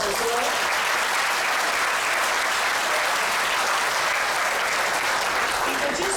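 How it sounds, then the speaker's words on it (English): A large audience at a chamber of commerce awards celebration applauds for John Luke and Cindy Williams, a dense, loud, continuous wash of clapping throughout. "let's give them a round of applause as well."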